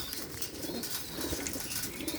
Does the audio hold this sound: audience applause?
no